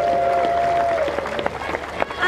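Audience applause at a celebrity all-star golf exhibition match at the 2023 Ryder Cup, a steady wash of clapping from a crowd with a voice carrying over it.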